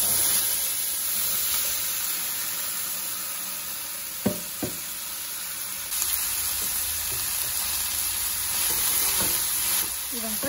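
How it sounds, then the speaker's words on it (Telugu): Cauliflower pieces stirred into spice paste fry with a continuous close hiss and sizzle, broken by a few light knocks of a spoon against the pan. "ఇదంతా ఇలా కలిపేసి తిప్పుకొని పెట్టుకోవాలి."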